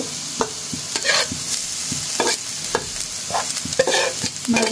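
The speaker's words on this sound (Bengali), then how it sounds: "মাছগুলো দিয়ে একটু ভাজি করবো।" Fish and vegetables being stir-fried together in a pan, with a steady sizzle under repeated scraping clacks of a spatula against the metal, close and fairly loud, with no talking.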